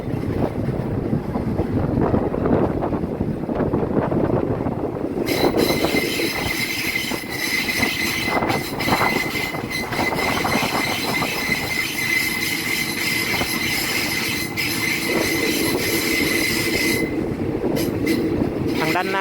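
Ordinary passenger train no. 254 rolls along the rails, heard from aboard as a loud, continuous rumble and clatter of wheels with a high metallic squeal that joins partway through and holds to near the end.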